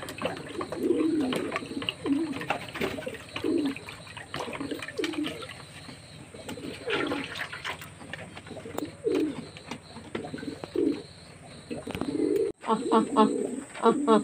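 Pigeons coo in a loft in repeated soft, throaty bursts, several birds calling close by over a steady low background, with a brief shuffle near the end.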